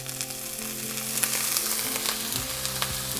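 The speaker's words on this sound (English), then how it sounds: "We've still got the pan cranked up with the heat, and I'm going to pop in the blueberries" Blueberries hitting a hot pan turned up high give a steady, close sizzle and crackle with faint stirring and scraping, running evenly for a few seconds.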